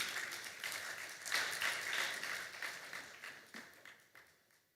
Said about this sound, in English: Another hand of applause to him as the host.